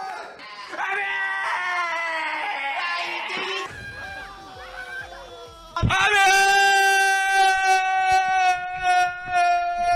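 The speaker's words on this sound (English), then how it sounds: "there are moments where he's just screaming" A young man screams in long, high, strained bursts that rise and waver, with a brief quieter gap before a second louder scream; loud and close, with music faintly underneath.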